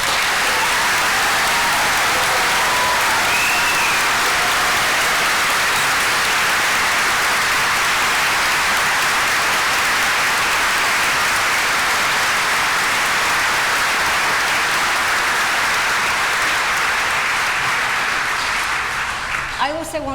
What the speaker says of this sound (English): I think we should give all of our graduates today one final round of applause.